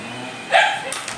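A single short dog bark rings out at mid distance, followed by faint smaller yips, over a quiet background.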